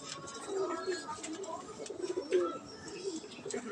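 A racing pigeon back at its loft after a 150 km race coos softly and repeatedly nearby, with faint voices in the background.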